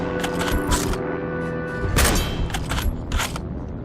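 Sniper gunfire in the World War II shooter game Heroes and Generals, several sharp cracking shots and booming reports scattered over a low rumbling battlefield backdrop, with no one talking.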